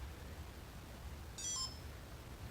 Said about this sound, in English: there's a notable beep